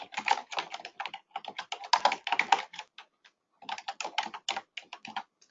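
Crisp keystrokes on a computer keyboard as a folder name is typed, coming in quick uneven runs with a short pause midway before the tapping resumes, close and clear with no talking.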